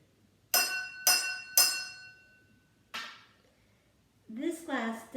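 Blue glass holding only a little water, gently tapped with a spoon: three bright ringing tings in steady rhythm, then a fainter fourth, followed by someone talking.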